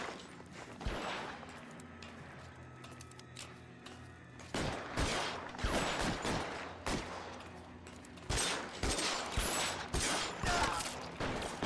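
Gunfire in the video game L.A. Noire, with repeated loud shots and rapid bursts, some single cracks and some fusillades, spread across the whole stretch with mechanical clicks between them and no speech.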